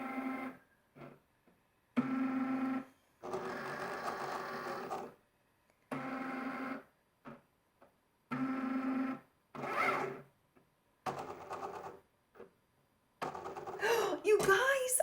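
A Cricut cutting machine running print then cut whirs in repeated motor bursts of one to two seconds, separated by silent pauses, ending in a busier, louder stretch.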